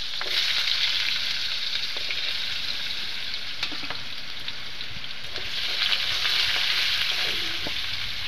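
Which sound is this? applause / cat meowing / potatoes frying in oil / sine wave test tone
potatoes frying in oil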